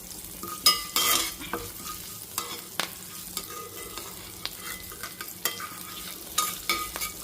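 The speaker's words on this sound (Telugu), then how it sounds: "పోపు అయితే వేగుతుంది మంచిగా వేగాలి ఎర్రగా వేగాలి" Tempering spices frying in oil for a coconut and raw mango chutney, a crackling sizzle broken by frequent stirring scrapes and clinks of a spoon against the pan, close up with no voices.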